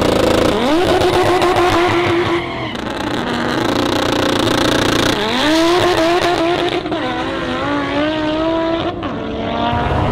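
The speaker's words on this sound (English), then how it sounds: "This is the fastest of the Audis, the four-wheel drive cars here right now." A four-wheel drive Audi S2 at a street racing event accelerates hard nearby, its engine note climbing through loud rising revs with gear changes, then easing off before a second surge and a fading pull.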